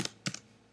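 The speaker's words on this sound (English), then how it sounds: "we just want to type" Computer keyboard typing, a few quick, crisp keystrokes close by in a quiet room, three short clicks spread over under a second.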